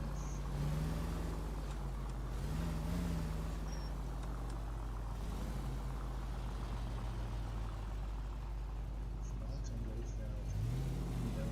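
Steady engine drone of a car driving in the L.A. Noire video game, a continuous loud rumble with shifting low tones throughout, with talk over it.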